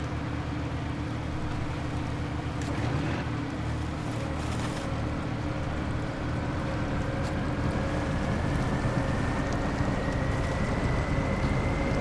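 CAT loader engine in the Snowrunner video game revving, a continuous loud drone with rising and steady engine tones and no talk over it.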